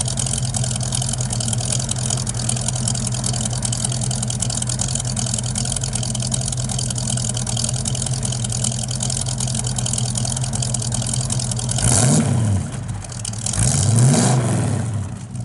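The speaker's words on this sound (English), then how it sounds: "Sounds good out the exhaust." A 1965 Ford Mustang 2+2 Fastback idles with a steady, throbbing exhaust burble for about twelve seconds, then two sharp revs rise and fall near the end, close and loud with no talk.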